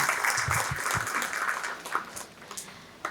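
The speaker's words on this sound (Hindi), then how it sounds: "खुद के लिए तालियाँ।" Parents at a preschool positive-parenting session clap for themselves, a dense round of applause from a seated audience that swells briefly and then thins out toward the end.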